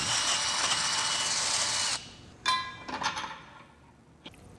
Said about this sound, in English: I'm gonna use some lube and then step it up a few drill sizes